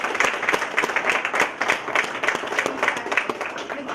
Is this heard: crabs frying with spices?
no